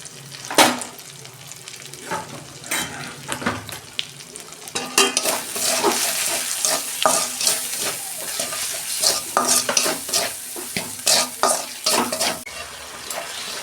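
Spice paste of chilli powder, turmeric and coriander loosened with a little water, sautéed in a pan for a bottle gourd and prawn curry: a steady sizzle broken by repeated scraping stirs of a spoon, close and fairly loud, with no talking.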